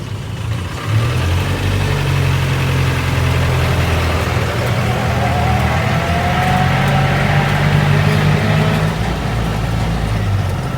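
The engine of a 1969 Land Rover idles loudly and steadily after starting, a close, continuous low rumble with a slight uneven throb and no talk over it.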